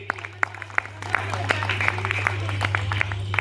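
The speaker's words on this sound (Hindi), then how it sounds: "एक बार तालियां बजती रहनी चाहिए।" An audience at a Hindu community gathering in India breaks into clapping, starting with a few scattered close claps that build into steadier applause over a low mains hum, with some voices mixed in.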